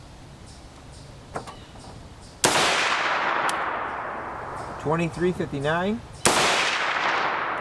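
Two sharp, loud gunshots from a Warsaw rifle with a 16-inch barrel firing 7.62x39mm 124gr BTHP ammunition, each with a long decaying tail, spaced a few seconds apart, with a brief spoken voice between them.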